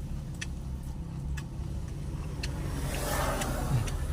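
Quiet roadside traffic beside a street in the Philippines, a car passing with a low engine hum that swells toward the end, plus a few faint clicks and ticks in the background.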